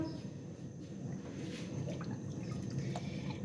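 Water is poured into a kadhi batter of gram flour and yogurt, a steady close trickle and splash with faint drips running throughout.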